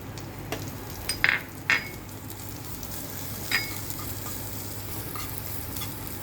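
Asafoetida and crushed garlic with green chili sauté in hot oil for wheat chivda, a low, steady sizzle with a few short metallic clinks early on.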